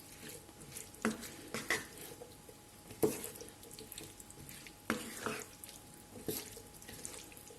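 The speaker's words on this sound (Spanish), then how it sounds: "Incorporamos el huevo a los garbanzos, le damos unas vueltas" Spoon stirring chopped egg into cooked chickpeas in a pot, wet scraping and clinking strokes in an irregular rhythm, close and fairly soft, with no talk.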